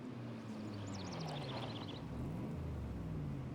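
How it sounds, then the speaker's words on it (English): A car approaching in the Ace Attorney: Spirit of Justice game, a steady engine rumble with rising and falling whine, heard alone at moderate distance. "Oh, I hear a car."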